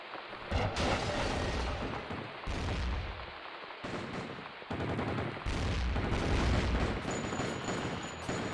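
Rifle fire in the vampire game Underworld: The Eternal War, loud rapid bursts of shots in several long volleys separated by brief pauses, dense and crackling, with no talking.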